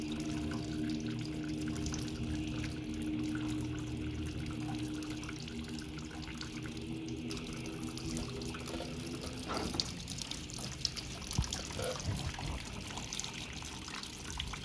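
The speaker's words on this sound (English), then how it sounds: "And just sit and wait for it to stop draining." Fluid drains steadily from an Oliver 88 tractor during teardown, a continuous close trickle and pour with a low pump-like hum underneath and a few small knocks near the end.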